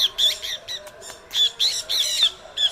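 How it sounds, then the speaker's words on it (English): A juvenile scaly-breasted munia calls from a rooftop on release day, giving a close, loud run of sharp, high chirps in quick irregular bursts with brief gaps between them. "It's release day of this beautiful scaly-breasted juvenile bird."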